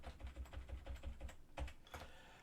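Quiet, quick clicking of keys on a computer keyboard, a run of fast taps followed by a few separate presses.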